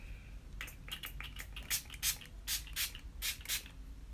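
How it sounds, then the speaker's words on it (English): Setting spray misted onto a face from a pump bottle, a run of quick, sharp hissing bursts close to the microphone, growing stronger and more forceful toward the end with no talking. "So because my skin is like a little dry right now, that I am going to just spray this quickly on my face."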